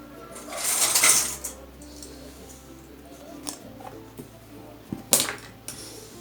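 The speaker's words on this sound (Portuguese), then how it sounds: "Passa uma costurinha, pode ser meio pé de máquina, tá? Mais na beiradinha mesmo" Sewing machine running a short line of stitching along the edge of fabric for a Bible or planner cover, with a brief burst of machine whirring followed by scattered soft clicks and handling noises nearby.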